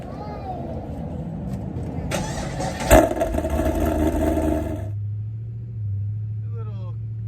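Opel Corsa fitted with a Borla sport exhaust, heard from inside the cabin: engine noise swells into a rev and a sharp burst, then settles to a steady low drone.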